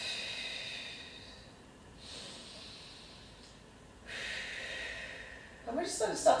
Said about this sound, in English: exhale through pursed lips